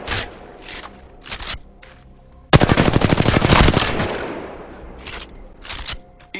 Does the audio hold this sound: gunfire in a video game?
yes